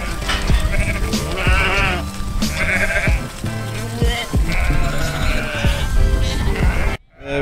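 A flock of sheep and lambs, rounded up by a trained dog for carting in a trailer, bleats loudly and continuously in overlapping calls close by, before cutting off abruptly near the end.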